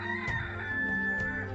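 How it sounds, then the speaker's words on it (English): A rooster crows in the distance over misty green pastureland in Belgium, a single drawn-out call that is faint and far off against a quiet rural background. "A rooster crows in the distance."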